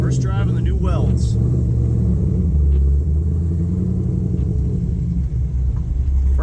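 A 1969 pro touring Camaro with an LS3 engine, rolling on new wheels and tires, gives a steady low engine rumble throughout while a person talks over it.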